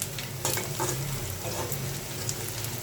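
Sweet potatoes with turmeric and chilli powder frying while being stirred, a continuous close sizzle with scraping stirs and small clinks, steady and fairly quiet, no voices.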